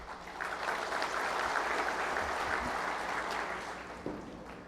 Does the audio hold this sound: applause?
yes